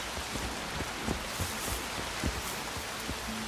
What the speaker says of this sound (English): Not in this torrential downpour.